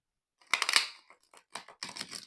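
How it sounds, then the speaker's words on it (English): Tarot cards being shuffled by hand, a few quick close riffling and flicking bursts separated by short pauses, crisp and fairly loud with no talk. "So while I'm shuffling here"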